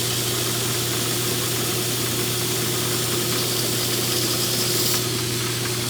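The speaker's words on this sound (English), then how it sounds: "See how I'm grinding right in the middle now?" A knife blade is ground on a powered grinder, with a constant loud motor whine and a hissing abrasive rush that runs steadily throughout at close range.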